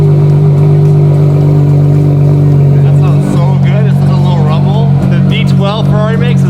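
A warm Ferrari Monza SP2 engine, a no-windshield supercar, hums steadily up close and then rises into a rev, with people talking over it for much of the clip.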